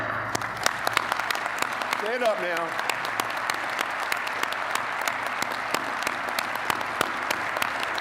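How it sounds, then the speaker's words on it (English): A large crowd gives sustained applause to city employees at a civic address, steady overlapping clapping throughout. Someone speaks briefly over it. "let us applaud you as well"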